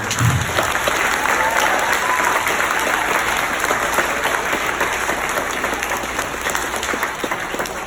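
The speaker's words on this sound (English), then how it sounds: "Another round of applause for everybody." Alumni-series school audience gives a round of applause, steady, dense clapping from a crowd, fairly loud and sustained throughout with a faint background hum.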